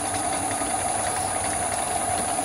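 A lathe motor driven by an electronic lead screw runs steadily, a continuous mechanical hum with a faint rhythmic whir and high-pitched electrical whine, close and without talking.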